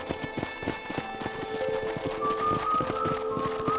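Rhythmic hoofbeats of a galloping horse in Red Dead Redemption, steady and close, with a layer of music-like tones sustained underneath.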